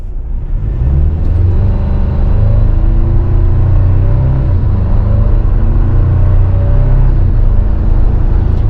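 A 2024 Toyota Tacoma SR5 4x4 with an 8-speed automatic pulls away from a stop on flat ground, its engine note rising in a loud, close, steady drone with gear shifts audible as pitch steps, and no talk.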